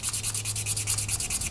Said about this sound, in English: I'm just sanding it so it's nice and smooth